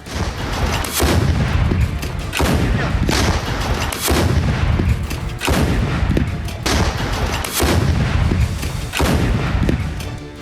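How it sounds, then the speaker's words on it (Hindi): Naval guns on the Russian warship Admiral Kasatonov fire during an artillery exercise in the Barents Sea, with loud heavy booms repeating in a steady rhythm about every second and a half, continuous through the stretch. "बेरेंट सागर में रूस के एक और वॉरशिप एडमिरल कासातोनोव ने आर्टिलरी फायरिंग का अभ्यास किया है"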